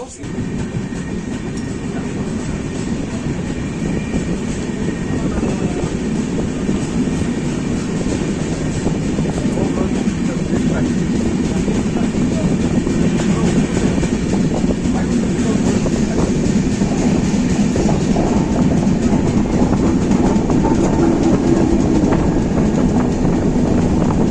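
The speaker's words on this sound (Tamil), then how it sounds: "நம்ம ட்ரெயின் வந்து 7:05 வந்துருச்சு" A train rumbles steadily on the rails as it arrives at a station on the Bangalore–Mysore line, a loud, continuous low roar with faint rhythmic clatter throughout, no pauses.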